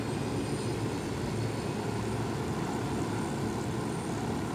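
Helicopter flying in Ghost Recon Wildlands, a steady loud rotor-and-engine roar close by with no break, little else heard over it.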